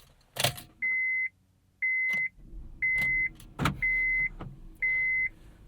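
A 2004 Honda Civic Hybrid being started: a loud clunk, then a series of five steady electronic beeps or chimes at regular intervals as the car comes to life, with brief mechanical clicks and a low hum between them.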